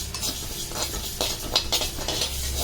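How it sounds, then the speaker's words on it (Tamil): Moong dal dry roasting in a pan for homemade paruppu podi, a near, dry rustling as the lentils are stirred and tossed, with quick scraping strokes and faint crackle. "இப்போ அடுத்து பைத்தம்பருப்பை வறுத்துக்கிறோம்."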